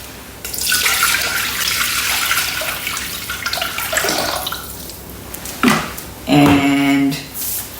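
Water pouring into a Thermomix bowl, a kilo of water measured in for peanut brittle: a steady, close splashing rush for several seconds, then a short clunk and a brief tonal hum near the end, with no talk.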